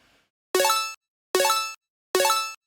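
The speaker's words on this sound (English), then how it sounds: "This is an ARP I made in Massive." Three identical bursts of a bright, buzzy synthesizer arpeggio made in Native Instruments Massive, each a quick run of rapid repeated notes, separated by short gaps of silence.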